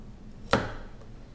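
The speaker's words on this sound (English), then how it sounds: "You can chop them further to chop the stems." A single sharp knife chop through broccoli stems on a cutting board, one crisp close thud in an otherwise quiet kitchen with no talking.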